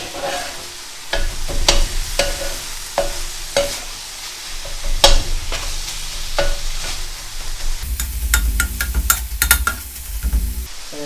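Vegetables sizzling in a pan after browning, with a steady close sizzle and repeated clacks of a utensil stirring and scraping, getting busier and louder toward the end, and no talk.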